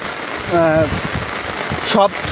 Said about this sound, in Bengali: আপনারা দেখতে পাচ্ছেন প্রচুর পরিমাণের কিন্তু বৃষ্টিপাত হচ্ছে তিস্তা ব্যারেজে